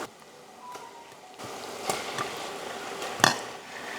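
About one and a half kilograms of chicken, cut into large pieces for biryani, drops into a pan and is stirred, giving soft sizzling with a few spoon and pan clinks, faint and close, with no voices.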